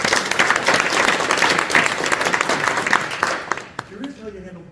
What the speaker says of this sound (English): Curious how you handle applause on this.